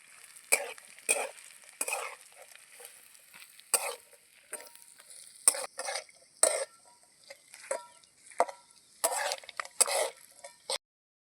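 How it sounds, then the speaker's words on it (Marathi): Peanuts and green chillies frying in hot oil for sabudana khichdi, with irregular bursts of stirring and scraping over a faint sizzle, close by and without talk. "आता तेल तापलेलं आहे आणि यामध्ये आता आधी टाकायचं आहे शेंगदाणे आणि मिरची तर हे आपल्याला आधी तळून घ्यायचं आहे"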